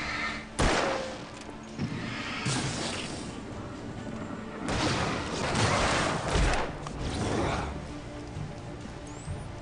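Gunfire in the horror video game Alan Wake: several loud, sharp shots and heavy thuds spread across the stretch, over a dense, rumbling game soundscape.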